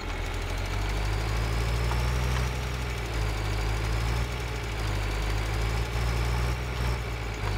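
A farm vehicle engine in Farming Simulator 2013 drones at a steady, loud, low rumble with a faint mechanical whine, unbroken throughout.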